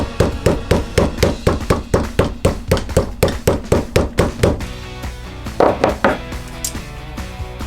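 A heavy flat hammer flattens leather saddle stitches on an anvil: a long, even series of sharp, close knocks, then a few looser, irregular strikes toward the end.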